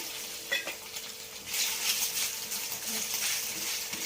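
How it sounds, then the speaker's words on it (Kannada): Small pieces of boiled egg fry in a pan, with a quiet sizzle that swells after the first second and is broken by light clinks of a spoon or utensil against the pan. "ಈ ಥರ ಸ್ಮಾಲ್ ಪೀಸ್ ಕಟ್ ಮಾಡ್ಕೊಂಡು ಸ್ವಲ್ಪ ಫ್ರೈ ಮಾಡ್ಕೊತೀನಿ"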